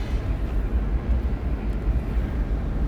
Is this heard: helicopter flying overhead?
yes